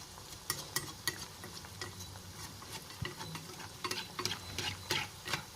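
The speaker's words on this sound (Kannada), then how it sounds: "ಈಗ ಬ್ರೌನ್ ಕಲರಿಗೆ ಬರೋವರೆಗೂ ಫ್ರೈ ಮಾಡ್ಕೊಳ್ಳೋಣ ಸ್ವಲ್ಪ ಹೊತ್ತು" Potato pieces fry in hot oil in a home kitchen, a soft continuous sizzle broken by scattered crackles and light pops, faint and close, with no voices.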